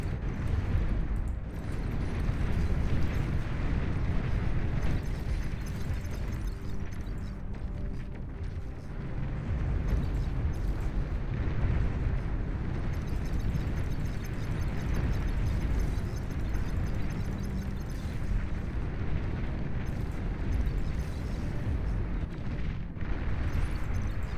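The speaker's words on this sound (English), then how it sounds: "Enemy commander destroyed." Explosions rumble through a real-time strategy battle in Beyond All Reason as an enemy commander unit is destroyed, a dense, loud, continuous roar of blasts and booming fire lasting throughout with no voices.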